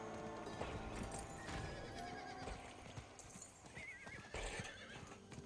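Horse from Diablo IV neighing loudly with a rising whinny over steady clip-clop hooves and galloping, layered with busy game effects and music throughout.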